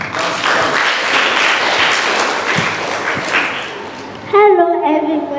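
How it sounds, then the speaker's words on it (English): An audience applauds a presenter at a class presentation, steady broadband clapping filling most of the clip before fading as a voice begins speaking near the end. "Please, can you clap for her?"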